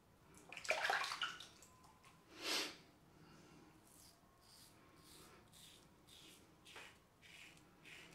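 Water rinses shaving soap off an Edwin Jagger razor, with a couple of brief splashy rushes early on, then quieter intermittent trickles and rubbing, close and faint, with no talking.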